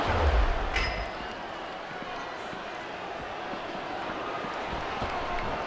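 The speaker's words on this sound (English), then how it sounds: "This capacity crowd is making their opinions known tonight." A large wrestling arena crowd in the video game SmackDown vs Raw 2007 roars in a steady, dense wash of noise, with a brief thump at the start and commentators talking over it.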